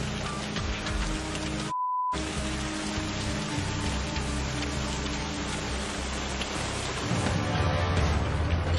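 Heavy, steady rain at a remote Australian gold prospecting camp during a big storm: a dense, constant close hiss of drops on surfaces with one brief silent break, and no voices.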